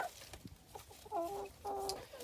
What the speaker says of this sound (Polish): tutaj znajdują się wszystkie koguty na sprzedaż